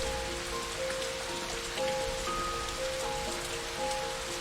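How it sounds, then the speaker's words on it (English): Rain pattering on an umbrella in a story-driven video game, a soft steady hiss of drops under a calm sustained musical tone, even and unbroken throughout with no talking. "I want to hear the raindrops fall on your umbrella."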